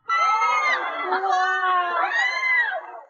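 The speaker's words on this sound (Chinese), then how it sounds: "并且他们还经常激动到大喊大叫。" A crowd of zoo visitors shouts and squeals excitedly at a panda, many high, overlapping voices calling out together in a loud, sustained burst lasting a few seconds.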